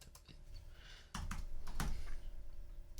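A few sharp keystrokes on a computer keyboard, close and distinct, as a short search word is typed into music software. Low room hum continues underneath.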